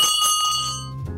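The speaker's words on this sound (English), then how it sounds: "It's a turret warning bell." A turret warning bell from the battleship USS Utah rings once with a bright metallic strike, its tone ringing on and fading over about a second, close and loud.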